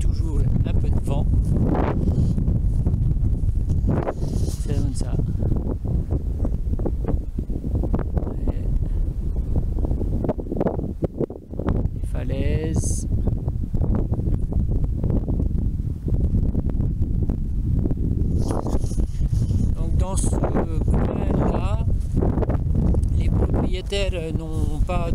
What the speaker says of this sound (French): Bon, on a comme toujours un peu de vent.